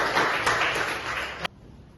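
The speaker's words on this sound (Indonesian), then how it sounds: "Sekali lagi tepuk tangan buat kelompok 1" Applause for a student group at a Hindu religious education teaching assessment, with a burst of hand clapping that cuts off abruptly partway through.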